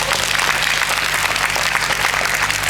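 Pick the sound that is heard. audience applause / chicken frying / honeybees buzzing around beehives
audience applause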